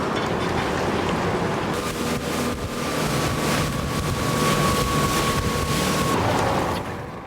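A motorboat cruises over open water, its steady engine drone mixed with rushing water and gusts of wind buffeting the microphone.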